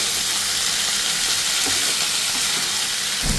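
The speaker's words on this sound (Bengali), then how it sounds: "চিংড়ি মাছগুলো আলাদা করে এখানে ভেজে নিই চিংড়ি মাছ দিয়ে পুরো মশলাটার সাথে কিন্তু খুব ভালো করে ভেজে নিতে হবে" Prawns sizzle steadily while frying in a spice masala, a continuous close hiss and crackle of hot oil with faint stirring and no voices.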